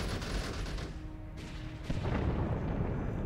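Missile barrage from a dreadnought-class warship in the space strategy game Sins of a Solar Empire (Maelstrom mod): a dense roar of rumbling launches and blasts, swelling again near the end, with no speech.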